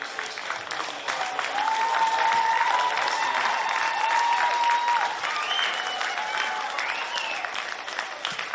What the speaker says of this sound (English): Big round of applause, please, ladies and gentlemen